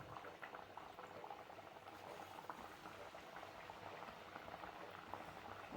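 Pumpkin pooris deep-frying in a pan of hot oil, a steady dense sizzle and bubbling that runs unbroken and close throughout, with no voices.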